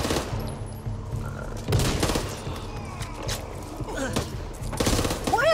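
Rapid gunfire from SMGs and assault rifles in Back 4 Blood, in bursts that keep going through the whole stretch, with chatter and game voices over the shooting.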